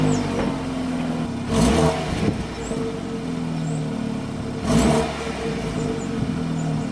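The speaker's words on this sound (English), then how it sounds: "these BMWs have exhaust notes going through the speakers of the car" An artificial exhaust note from a BMW 430i plays through the car's speakers as a steady engine drone from inside the cabin. It swells twice into brief rising surges, and no one talks.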